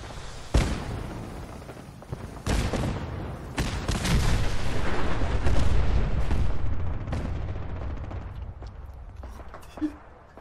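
Gunfire from a hostile robot in Fallout 4's Automatron add-on, a string of loud booming blasts and rapid bursts at close range, mixed with game noise and a voice.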